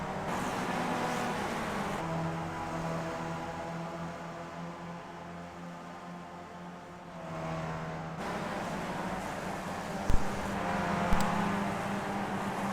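Race car engines in a sim racing video game at Motegi, a steady droning whine that shifts pitch as cars accelerate and pass, with a couple of sharp knocks near the end.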